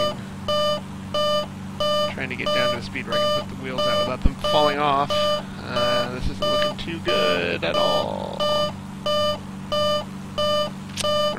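Repeating electronic cockpit warning beeps sound in steady evenly spaced pulses throughout a flight simulator approach in low IFR conditions, with someone talking over them about slowing enough to lower the landing gear.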